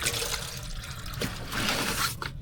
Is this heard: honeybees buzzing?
no